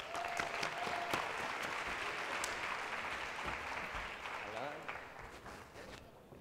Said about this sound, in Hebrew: קבלו בבקשה במחיאות כפיים סוערות